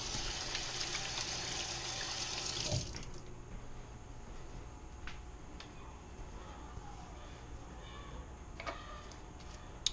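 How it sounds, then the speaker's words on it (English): Water runs steadily from a kitchen sink tap while hands are rinsed after cooking spaghetti squash, a loud broadband rush for the first few seconds, then cutting to a quieter background with faint clicks and small clatters. "Rinse my hands."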